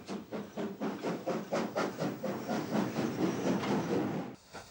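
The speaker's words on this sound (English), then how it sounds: "ex-Great Western locomotive number 4992 Crosby Hall, which on the 22nd of September 1962 hauled an Ian Allen special back to London" Ex-Great Western steam locomotive 4992 Crosby Hall hauling a special train, its exhaust beats chuffing in a steady, quickening rhythm with hissing steam, fairly close and loud before cutting off abruptly near the end.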